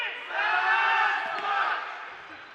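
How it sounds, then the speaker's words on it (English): Dodgeball team Phantoms shout their team cheer at the Ontario championships, a short unified group yell rising and fading in an indoor gym. "Phantoms put a little bit into their cheer."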